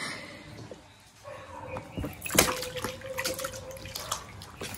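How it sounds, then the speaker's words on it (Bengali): A seven-month-old baby splashes bath water in a tub, with irregular sloshes and drips building to a sharp splash midway, then lighter scattered splashing close by. "এই দেখো প্রচণ্ড পরিমাণে জল ছিটায়"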